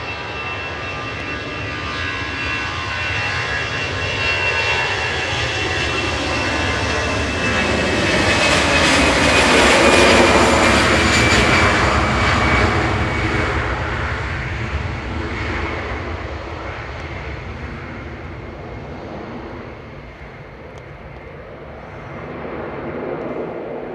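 An airliner's jet engines roar steadily and close on a flight to Paris at Manchester Airport, swelling to a peak midway and then easing off while the broadband rumble continues throughout.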